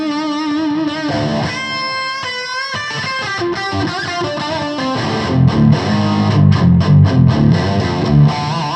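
Electric guitar played through an Axe-FX 3 modeller with stereo delay and detune, heavily distorted chords and single-note lines ringing out with thick sustain, then chugging palm-muted riffs, loud and alone.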